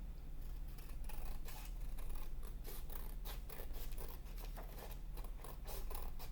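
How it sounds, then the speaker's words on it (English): Scissors cutting a traced paper triangle, heard as a steady run of quick, crisp snips and rustles close by and fairly quiet, with no talking. "then I'm going to cut that triangle"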